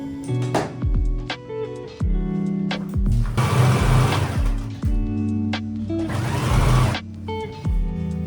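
Sewing machine hemming the folded sleeve edge of an unlined jacket, several short whirring bursts of stitching separated by pauses, close and loud, with handling sounds between runs.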